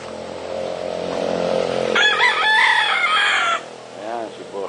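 Chickens clucking and crowing nearby, a rooster's strained call in the middle, followed by short clucks.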